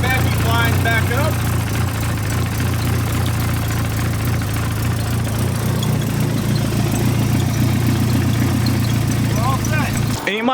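A boosted car engine idles steadily after a fuel system upgrade, a loud, even low hum that runs throughout at close range and stops abruptly at the end, with someone talking over it.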